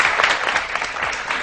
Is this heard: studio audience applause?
yes